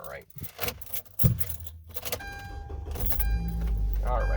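Keys jingle close by before a car engine cranks and catches, settling into a steady idle with a faint whine, while a person talks over the start.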